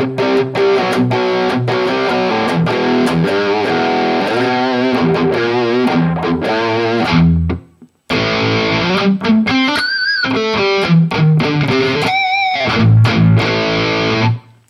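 Electric guitar with distortion running through a Mooer GE-1000 multi-effects unit plays a loud, continuous distorted pop riff of chords and bends, with a brief gap near the middle before it resumes.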